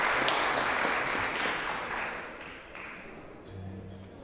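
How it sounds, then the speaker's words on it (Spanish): Audience applause at a talk on climate change and viticulture in Chile, steady broadband clapping that fills most of the clip and slowly thins toward the end. "Nuevamente un aplauso para él, por favor."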